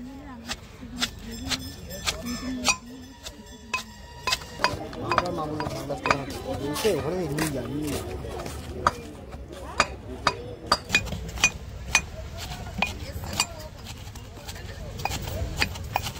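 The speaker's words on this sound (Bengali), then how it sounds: "হামন দিস্তা, এটাকে থেতো করতে হবে এখন" Lentils being pounded in a metal mortar and pestle, with loud ringing clanks that repeat steadily and sometimes speed up, while a voice talks over parts of it.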